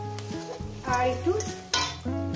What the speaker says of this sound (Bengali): দিয়ে এটাকে আমি ভেজে নেব।